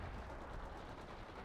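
Dense, continuous battlefield gunfire from the real-time strategy game World in Conflict: Soviet Assault, with rapid overlapping shots and rumbling blasts filling the whole moment at steady loudness.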